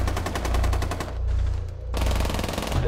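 Fast automatic gunfire in Rainbow Six Siege, fired through a wall, loud close bursts with a short lull in the middle before the shooting resumes, no voices.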